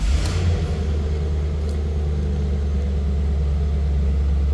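A 2002 Chevrolet Camaro Z28 convertible V8 idles steadily after a cold start, a deep, even rumble close by with no talking.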